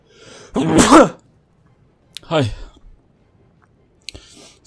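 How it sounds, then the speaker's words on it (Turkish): One person sneezes twice, the first a loud burst and the second a shorter one, with a faint breath or click afterward in a quiet room. "Ay hapşırık geldi bir saniye"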